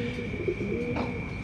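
Pigeons in a loft, soft cooing and small chirps close by over a steady background hum, brief and continuous.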